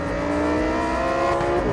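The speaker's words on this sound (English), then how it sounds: "a naturally aspirated monster of a thing that just screams" A Lamborghini Huracan Tecnica with a naturally aspirated engine screams at high revs, a loud, dense, sustained howl with stacked harmonics that climbs slightly, heard up close and continuously with no voices over it.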